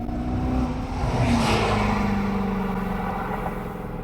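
1986 Jeep Wagoneer fitted with a TrackHawk engine accelerating, a close, loud rising roar with a climbing whine that swells midway and then settles into a steady drone.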